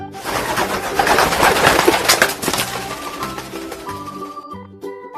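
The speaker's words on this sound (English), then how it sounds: "Pigeon." Pigeon cooing among noisy rustling and flapping. The soft coos are partly masked by the broadband noise, and quieter tonal sounds follow near the end.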